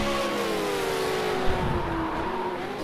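V8 Supercar in a racing game at Zolder, engine droning steadily as it brakes hard into the Villeneuve Chicane, a brief tyre lock-up scrub standing out near the middle.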